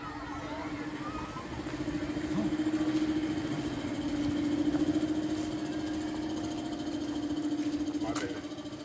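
Tractor engine idling steadily during repairs in a mountain village in rural China, a low continuous hum that swells and eases slightly, with voices talking over it.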